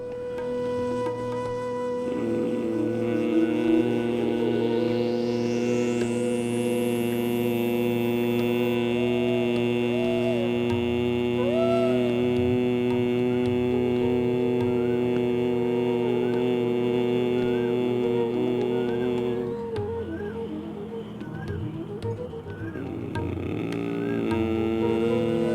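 A long, steady nasal hum comes from a breathing exercise: bhramari pranayama, exhaling slowly with the ears closed. It holds for about twenty seconds and is loud and close, with a brief dip before it picks up again.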